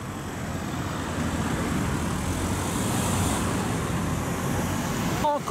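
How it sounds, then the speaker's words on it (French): A Bugatti Chiron Sport supercar passes on a road at a Bugatti 110th anniversary gathering, heard as a broad, steady roar of engine and road noise that swells toward the middle. A brief sharp sound comes near the end. "Chiron Sport qui arrive,"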